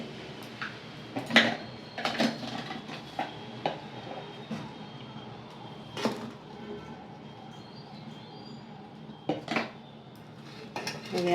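A spoon clinks and scrapes against a bowl while spices and salt are mixed into rava-potato medu vada batter, with intermittent taps at irregular intervals and a quiet room behind.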